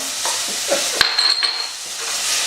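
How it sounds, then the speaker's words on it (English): Chopped ingredients sautéing in a pan for pasta e fagioli, a steady broadband hiss with a few sharp clinks and stirring scrapes midway, close and fairly loud, no voices. "We're gonna saute that for about 30 seconds"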